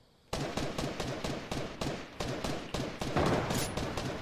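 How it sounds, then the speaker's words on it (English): Rapid bursts of gunfire from Fortnite ring out in a quick rhythmic string of about a dozen sharp, loud shots, close up and unbroken, with no talk over them. "I'm literally shooting at the guy"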